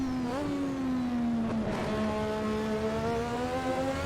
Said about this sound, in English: An exhaust crackle.